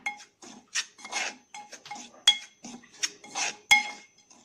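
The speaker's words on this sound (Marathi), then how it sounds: "आता आपण दूध पावडर टाकून घेऊया" Milk powder being mixed into ghee in a pan for mava kulfi, heard as a run of irregular metal spoon scrapes and clinks against the pan, close and fairly loud, with brief pauses between strokes.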